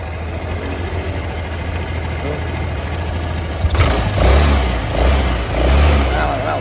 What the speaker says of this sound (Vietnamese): giờ mình đề, hiện tại giờ do đang nó đang đầy xăng rồi, cho nên là nó không đưa xăng lên